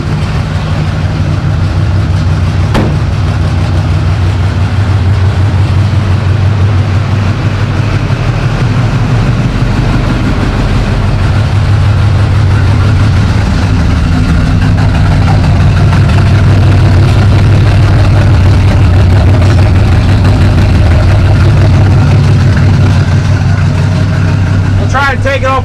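A cold International Loadstar truck engine idles steadily on choke, a loud, continuous low rumble running close by throughout with little change.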